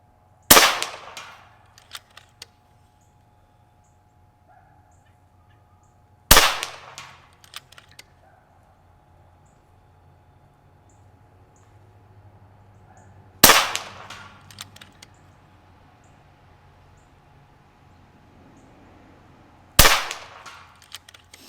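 FX Maverick VP air rifle firing at a target 100 yards out, four sharp, loud shots spaced several seconds apart, each followed by a short ringing decay over a quiet background.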